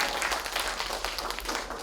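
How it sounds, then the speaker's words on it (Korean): A fan meeting audience applauds after a quiz game win, a dense steady patter of clapping lasting the whole short stretch at moderate level with no clear talk over it. "박수 부탁드립니다"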